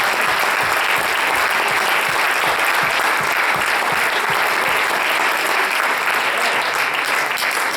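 A church congregation claps to the Lord during a sermon, sustained loud applause with a steady rhythmic beat underneath, filling the room without letup.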